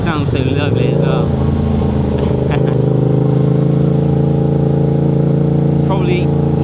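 Up close, a motorbike engine rumbles loudly as it runs, revving up at the start and then holding a steady idle, with brief talk over it.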